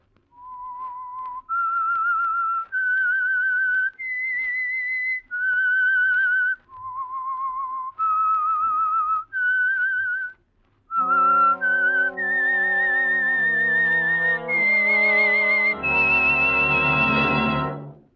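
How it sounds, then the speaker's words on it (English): A single whistler carries a slow melody in sustained, vibrato-tinged notes, then an orchestra swells in beneath the tune, building toward a full ending: the theme of the old radio program The Whistler. "That whistle is your signal"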